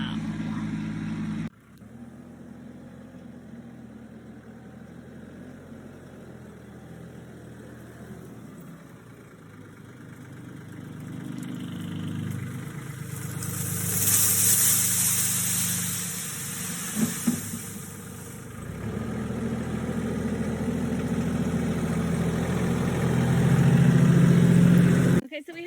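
A farm tractor engine running steadily while moving leaves to a compost bin, a continuous low rumble that swells louder toward the end, with brief rustles and knocks partway through.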